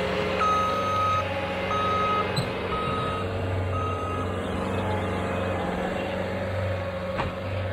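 Skid loader backing up at a new house build site, its reversing alarm beeping in a steady repeated pattern over a constant low diesel engine drone, fairly close by.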